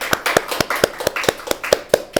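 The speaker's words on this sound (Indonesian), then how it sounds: "Tepuk tangan dulu teman-teman" Audience clapping during a school-leaders' podcast talk, a quick run of crisp, evenly spaced claps at close range with little other sound.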